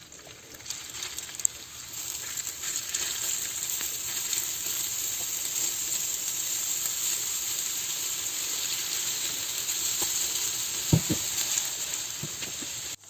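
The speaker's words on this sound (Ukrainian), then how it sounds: "зараз буду їх обсмажити на невеликій кількості олії" Meatballs frying in a little oil, a steady close sizzle and hiss that holds throughout, with a few soft clicks of stirring or turning near the end and no talking.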